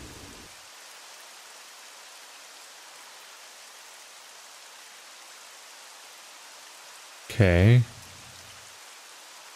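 Rain falls in the video game Myst V: End of Ages as a soft, even hiss throughout, with a brief spoken word near the end.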